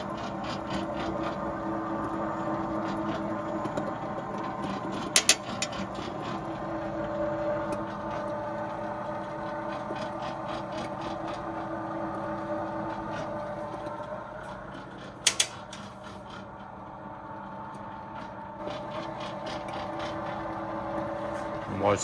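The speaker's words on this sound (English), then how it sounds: "See the oil pump driving there with the timing chain turning." A restored transparent cutaway engine, once a rusted flood wreck, turns over with its oil pump and timing chain running, giving a steady, moderately loud mechanical whir with a light rhythmic clatter and two brief sharp clicks.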